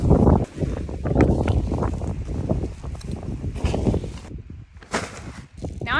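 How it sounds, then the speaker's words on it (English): Gusty wind buffets a microphone outdoors in a vegetable garden, producing loud uneven rumbling bursts and low-frequency blasts that rise and fall repeatedly, with some rustling in between. "Oh my God, the wind"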